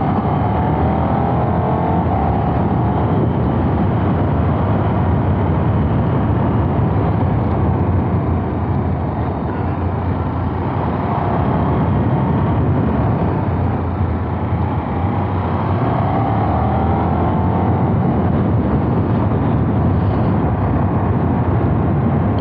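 Steady, loud roar of a 2024 KTM Super Duke 1390 R roadster under way on the road, engine drone blending with rushing wind noise, continuous with gentle swells in intensity and no talking.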